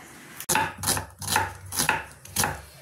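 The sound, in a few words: chopping onions with a knife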